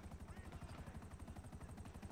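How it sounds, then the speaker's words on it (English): Helicopter idling in the GTA video game, its rotor beating in a fast steady chop, loud and close, continuous through the whole stretch with no one talking over it. "Dude, I got a helicopter."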